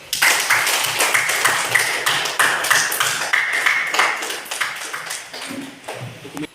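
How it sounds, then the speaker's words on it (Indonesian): Students in a classroom applaud the presenting groups: a dense burst of many hands clapping starts abruptly, holds strong for about six seconds, then thins and fades. "berikan dulu aplaus untuk semua masing-masing kelompok"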